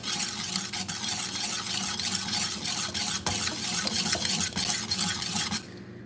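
A spoon stirs a strong drink mixed with a little water, clinking rhythmically against the cup for several seconds before stopping abruptly.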